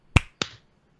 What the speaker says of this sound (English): We should do a sync clap.